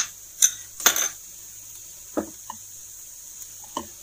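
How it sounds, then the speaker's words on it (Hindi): Coriander leaves being mixed into bread samosa stuffing with a spoon in a metal pan, giving a few scattered clinks and scrapes with quiet pauses between them. "इसमें हम कोरिएंडर लीव्स ऐड कर देंगे और इनको भी अच्छे से मिक्स कर लेंगे"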